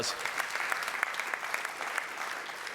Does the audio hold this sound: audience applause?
yes